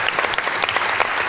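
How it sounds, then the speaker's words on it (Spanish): Audience at a panel session on workplace violence and institutions applauding the organizers, dense close clapping from many hands filling a short burst. "pido un aplauso también para los organizadores"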